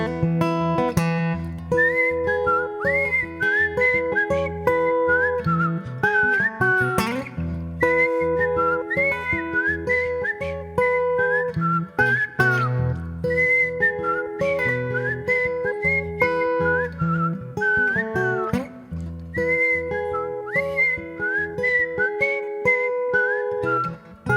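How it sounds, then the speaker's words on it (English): A person whistles a bright, melodic song, clear and close, with repeating phrases and short pauses across a long stretch, no talking. "You can't whistle with dry lips."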